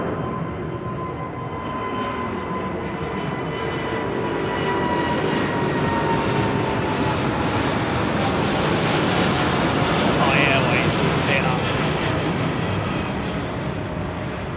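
A Korean Air Boeing 747 departing London Heathrow Airport on a low climb-out sends a loud, steady jet roar that fills the whole stretch and swells slightly toward the middle.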